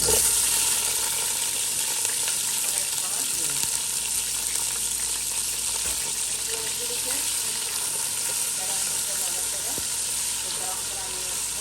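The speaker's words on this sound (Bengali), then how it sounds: "কিছু তেল দিয়ে দিলাম এবার দিয়ে দিচ্ছি পেঁয়াজ" Onions frying in hot oil in a pot for potato biryani, giving a steady, even sizzle that holds at one level throughout, with a faint stir or two and no talking.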